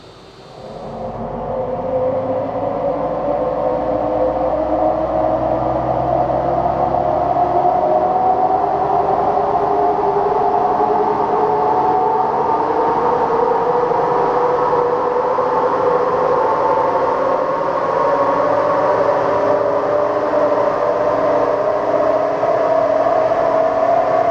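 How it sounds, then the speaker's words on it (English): A Jeep Wrangler 2.8 CRD runs on a dyno with noisy tyres, a loud continuous drone and whine that rises steadily in pitch as speed builds, close and without talk. "He's very noisy on these tyres."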